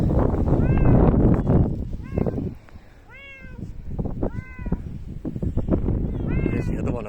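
Several cats meow in short, rising calls spread through the clip, close by outdoors, mixed with a person's speech and some wind.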